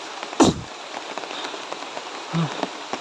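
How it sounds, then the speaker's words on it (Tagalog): Steady heavy rain hisses across the whole clip, with a couple of louder nearby thuds or knocks cutting through the downpour. "Lumakas yung ulan, grabe."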